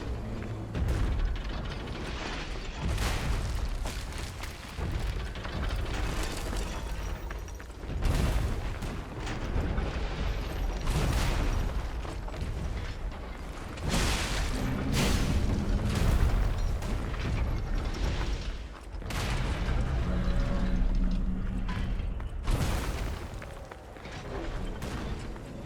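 Cannon fire in the Lies of P action game lands as repeated heavy booms and mechanical clanks amid dense combat effects, loud and continuous throughout, without speech.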